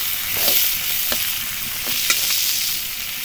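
Prawns, chopped onion and green chillies frying together in a pan, a close, hissing sizzle broken by a few short stirring clicks.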